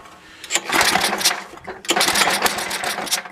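Pull cord yanked on a snowblower engine with the choke on, giving a few loud rough bursts of cranking and sputter with a short gap between pulls.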